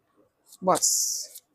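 Tarot cards being shuffled: a brief voiced sound, then a bright, papery riffle of about half a second, close and fairly loud, followed by silence.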